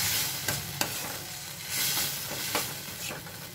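Broad beans stirred into sizzling masala frying in a pan for a Tamil avaraikkai kulambu, a steady close hiss broken by a few sharp scraping strokes of the spoon.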